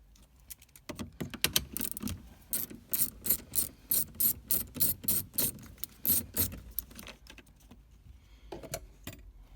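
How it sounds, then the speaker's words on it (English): Rapid ratchet clicking as a bolt is worked loose in the heater blower area of a Peugeot 107, a steady run of close, sharp clicks in the middle stretch with scattered handling clatter before and after. "I'll take that bolt out the top"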